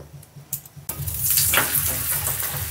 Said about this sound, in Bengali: তেল দিয়ে খুব ভালো করে এটা সেঁকে নেব।